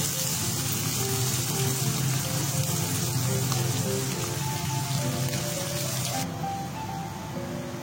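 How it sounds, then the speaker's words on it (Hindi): Minced meat for potato keema curry fries with browned onions in a karahi, giving a dense, continuous sizzle and crackle that holds steady throughout without any voice. "कीमे का जो अपना पानी है उसको खुश्क होने तक हम इसको भूनेंगे अच्छे तरीके से"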